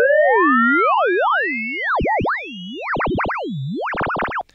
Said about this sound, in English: So you get that classic kind of like radio tower kind of ring modulation kind of sound